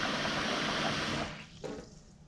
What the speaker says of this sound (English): Now I'm going to add some water and I will keep it for half an hour.